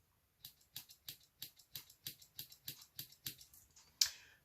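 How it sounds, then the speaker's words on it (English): Small Victorinox Swiss Champ Swiss Army Knife scissors snipping and clicking, about a dozen crisp, evenly spaced metallic clicks close up, ending with one sharper snap, in quiet surroundings. "Victorinox scissors, really good."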